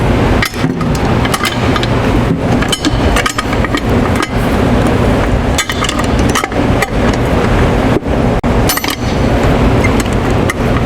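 Repeated sharp metallic taps as a pump casing is knocked into its groove on an Ampco AC+ CB+ pump, a steady run of close hammer strikes over a constant mechanical background hum.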